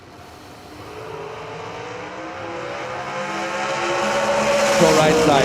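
The Hubbard Heating and Cooling dragster roars down the drag strip, its engine note climbing steadily in pitch and growing louder over several seconds as it accelerates away.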